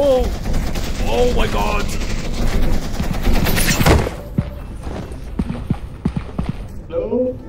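Bursts of gunfire in the horror video game Content Warning ring out under startled shouting, loud for the first four seconds, then scattered sharp shots and footsteps as the voices continue.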